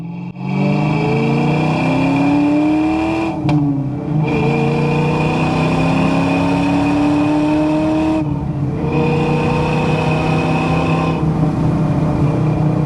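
A 1994 Ford Mustang SVT Cobra's 5-liter V8 with a 5-speed manual accelerating hard, loud and close, its revs climbing steadily through the gears with brief dips at each shift and no talk over it.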